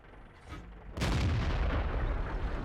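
An SU-101 tank destroyer's cannon fires in World of Tanks: a single sudden, heavy boom cuts through quiet ambience and then rolls into a long, rumbling decay.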